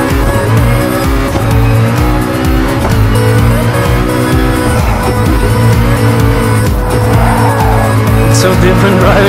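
A McLaren P1 GTR race car driven around the Kyoto Driving Park Yamagiwa+Miyabi circuit in GT Sport: a loud, continuous engine roar that rises and falls through gear changes, with brief tire squeal near the end.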